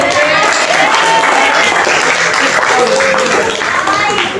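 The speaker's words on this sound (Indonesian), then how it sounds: "Oke, tepuk tangan." A classroom of students applauds, a loud, dense burst of many hands clapping close by, steady for several seconds with faint voices mixed in.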